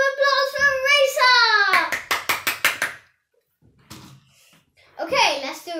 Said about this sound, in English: Give a round of applause for Risa